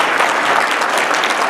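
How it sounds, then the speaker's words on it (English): A graduation reception crowd gives a dense, steady round of applause for graduating exhibition and experience design students, loud and continuous throughout. "just one more round of applause for the students"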